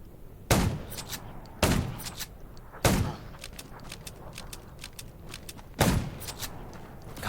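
Gunfire in the zombie survival video game Undawn: four loud, sharp shots at irregular spacing, each with a booming tail, over a steady background bed of lighter clicks and rattles.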